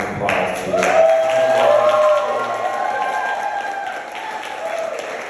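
Conference audience applauding during closing statements, a sustained wash of clapping with cheers and raised voices over roughly five seconds, strongest early and tapering slightly.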